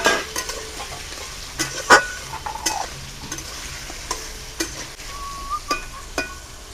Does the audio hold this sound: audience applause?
no